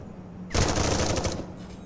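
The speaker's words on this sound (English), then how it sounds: "I'm shooting him through the fence." Rapid burst of gunfire in the Arcticide video game, fired through a fence: a loud, fast string of shots lasting under a second, then quiet.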